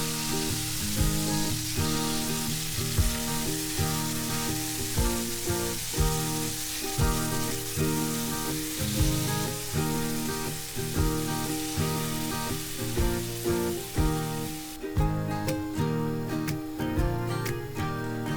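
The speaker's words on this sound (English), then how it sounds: "Then simply fry the marinated beef." Marinated beef frying in hot oil in a pan for a Goan beef chilli fry, a steady crackling sizzle running under loud rhythmic background music throughout.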